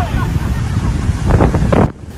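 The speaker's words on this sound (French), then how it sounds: "Le mugissement de la mer." Roaring sea waves make a loud, dense rumble of surf mixed with heavy wind noise, swelling briefly before cutting off abruptly.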